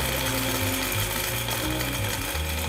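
A blender grinds whole spices into a coarse South Indian biryani masala, a loud, continuous rough whirring with pulsing low grinding that stays close and steady the whole time.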